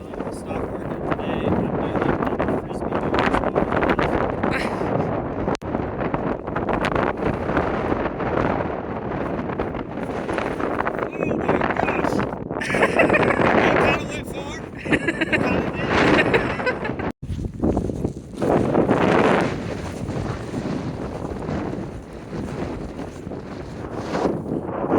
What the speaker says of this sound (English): Show us how windy it is.